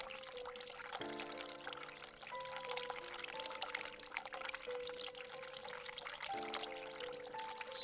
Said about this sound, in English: Turn hot water on.